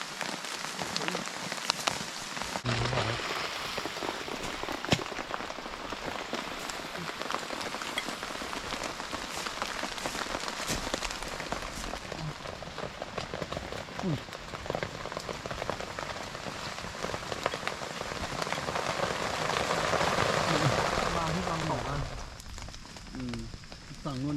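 Steady rain pelts the surfaces of a campsite on a high mountaintop, a dense, continuous patter that holds for the whole stretch, with faint sounds of movement and handling mixed in.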